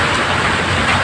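Heavy rain falling during Typhoon Kristine, a dense steady hiss and patter that stays loud and even from start to end with no voices.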